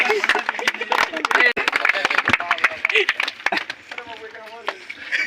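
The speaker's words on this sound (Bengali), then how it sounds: "জোরে হাততালি" An audience at a cricket tournament award ceremony claps in dense, rapid, uneven bursts, with someone talking over the clapping throughout.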